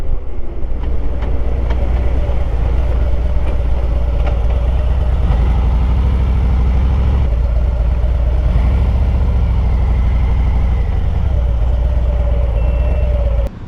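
A Harley-Davidson motorcycle engine runs steadily and loudly throughout on a solo backroad ride near Walden's Ridge, a continuous low rumble that holds constant with no pauses, no talk over it, and a brief drop right at the end.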